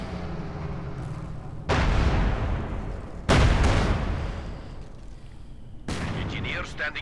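Battle sounds from Company of Heroes 2, with infantry gunfire and Panzer tank cannon fire: three heavy booming blasts, each followed by a rumbling, fading decay, over a low background din of distant combat.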